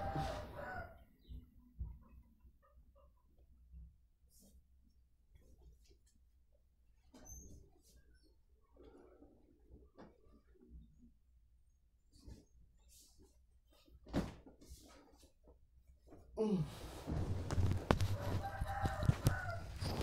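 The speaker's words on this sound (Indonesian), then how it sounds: "Ayam aja baru bekokok, coy" A rooster crows in the early morning, the call rising loud and close near the end after a quieter stretch of scattered soft sounds.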